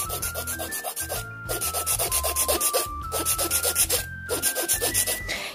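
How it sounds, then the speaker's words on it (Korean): A hand file rasps back and forth on an acrylic nail extension to shape a C-curve, with quick, even strokes in a close, steady rhythm and short pauses between passes. "조금 더 옆에서 보고 이렇게 갈아 주셔야 될 것 같아요"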